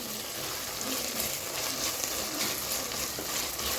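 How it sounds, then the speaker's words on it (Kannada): Food frying in a pan for ghee rice, a dense, steady, close sizzle running throughout without pause. "ವಾಶ್ ಮಾಡಿ ಮಾತಾಡಿ ಅದನ್ನೆಲ್ಲ ಫ್ರೈ ಮಾಡೋಣ"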